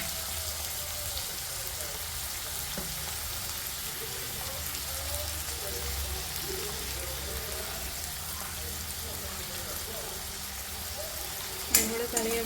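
Tomatoes and masala fry on a low flame in a pan for a masala egg curry, giving a steady, soft crackling sizzle throughout with a sharper clatter near the end.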